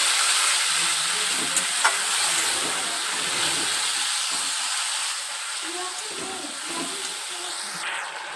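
Spice paste for a fish-head mung dal fries in a pan during village cooking, a loud, even hiss of sizzling steam with a few stirring knocks and low voices faintly in the background.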